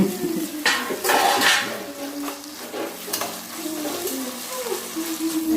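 Tomatoes frying in a pan with onions as a spoon stirs them, giving a soft continuous sizzle broken by scraping strokes and a few sharp clinks against the pan.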